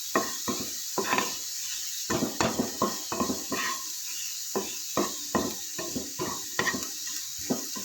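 Chopped banana flower sautéed with salt in a pan, a series of close scraping and tossing strokes with soft sizzling beneath, irregular and fairly busy throughout.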